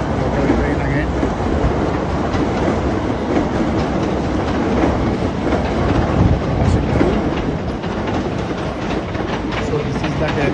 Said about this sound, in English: here we can see local train again